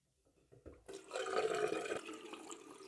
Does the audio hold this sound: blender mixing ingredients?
no